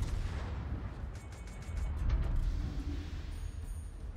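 The guns of the battleship Scharnhorst firing in a naval video game, heavy low booming and rumbling with a few sharp distant reports layered over a constant deep roar.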